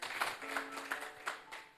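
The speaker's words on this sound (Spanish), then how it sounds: "¿Cuántos pueden dar un aplauso a esta palabra digna y fiel de ser recibida?" Scattered applause from a church congregation, a few loose claps repeating roughly every third of a second at moderate distance, fairly soft, with no voices over it.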